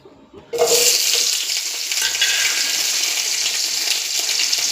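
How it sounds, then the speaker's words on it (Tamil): Onions drop into a hot pan and erupt into a loud, continuous sizzle as they sauté for a mushroom and green pea gravy, with occasional stirring scrapes. "நல்லா வதக்கணும் வெங்காயம் நல்லா வதங்கிடுச்சு"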